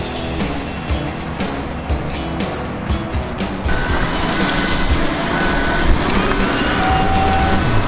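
A 2020 Ford F-550 dump truck loaded with 4,000 pounds of dirt rolls along in tow haul mode, its engine and road noise a steady loud rumble heard from the cab, with faint intermittent beeps and no talking.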